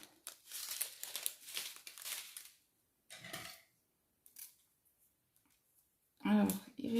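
Crinkly plastic bags of diamond painting drills being handled and snipped open with scissors, rustling bursts broken by silent gaps, then a louder crinkle with clicks at the end.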